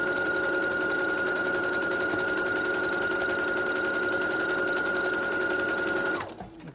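A sewing machine stitches a t-shirt sleeve seam in one loud, fast, even run, then stops abruptly near the end.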